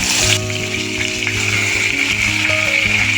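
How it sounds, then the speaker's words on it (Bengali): Pointed gourd (potol) pieces frying in hot oil, a loud close sizzle and crackle running throughout, with background music tones and no talk. "এই পটল ভাজার আওয়াজে যাতে শোনা যায়"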